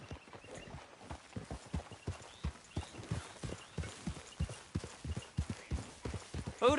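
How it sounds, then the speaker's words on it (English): Horse hooves in a video game clip-clop steadily at a walking pace while ridden, close and continuous, with a faint whinny near the end. "Grab your horse and let's go."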